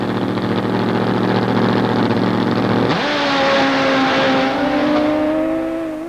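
A 1997 Pro Star top fuel drag motorcycle roars loud and near, its engine note jumping to a higher, sustained scream partway through as the bike launches down the track.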